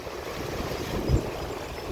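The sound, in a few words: freshwater lake waves at Artist's Point, Grand Marais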